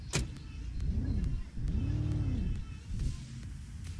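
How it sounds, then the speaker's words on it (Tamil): Lorry in a 2D offline mobile game driving past, heard as a smooth rising and falling engine whine in two sweeps, moderately loud, with a few short clicks around it. "லாரி போகுது."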